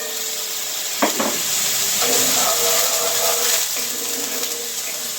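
Chickpeas cooking in oil flavored with hickory liquid smoke give a steady close sizzle, with a few clinks and stirring scrapes over the constant hiss.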